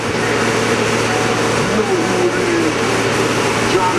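A car engine runs steadily at a car audio bass competition in Ashland, Wisconsin, a loud continuous mid-range hum close by with a faint pitch change partway through, under the talk of people nearby.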